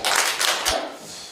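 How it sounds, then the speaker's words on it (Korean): An audience at a book launch event applauds to welcome a speaker, a short stretch of brisk, close clapping with a few sharp hand-claps standing out. "박수로 맞으십시오."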